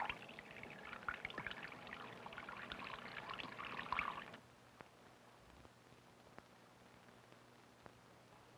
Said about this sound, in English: The water for Tony's bath mustn't be either too hot or too cold.